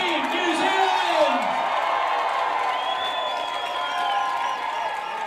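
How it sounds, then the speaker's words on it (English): A large welcoming crowd applauds and cheers as Emirates Team New Zealand, America's Cup holders, return home; steady, dense clapping and whoops fill the whole stretch, with an announcer's voice faintly over the noise. "They arrived home, as you can hear, to rapturous applause"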